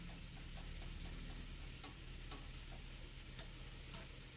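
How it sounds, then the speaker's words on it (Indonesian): Seasoning being stirred into food frying in a pan, a steady close sizzle with faint scattered ticks and scrapes from the stirring, no voices. "Lalu kita aduk-aduk teman-teman ya, sampai bumbu penyedap rasanya ini tercampur dengan rata"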